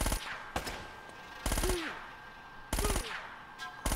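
Gunfire from a gun in Uncharted: Drake's Fortune comes in three loud bursts of rapid automatic shots, each followed by a short ringing tail, with quiet gaps between the bursts.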